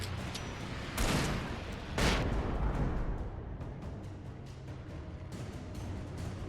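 A flashbang goes off in the video game Alan Wake: two loud, broad blasts about a second apart, each fading into a rumbling wash of noise that settles into a steady background roar.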